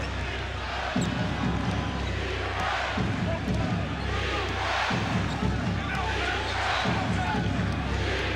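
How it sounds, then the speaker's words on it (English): A capacity basketball crowd chants at a New York Knicks game: a steady rhythmic roar of many voices, rising and falling in regular waves about every two seconds, loud and continuous. "Chant of defense from this capacity crowd."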